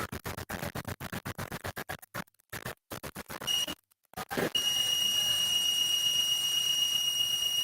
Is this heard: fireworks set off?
no